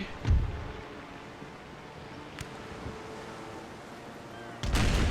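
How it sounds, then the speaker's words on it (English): Naval cannon fire aimed at a brig in the Napoleon Total War video game, with one heavy boom near the start and another at the end over a low rumbling battle ambience. "And then we focus cannon fire on the brig."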